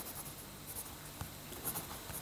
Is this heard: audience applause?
no